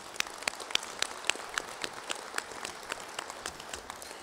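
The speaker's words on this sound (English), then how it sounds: "So let's give them an applause" Diners at a Reagan Day Dinner in Kingsport, Tennessee, applaud the young people who served their meal. The claps are sparse and scattered, a thin patter of separate hand claps heard at moderate distance over a soft room hum.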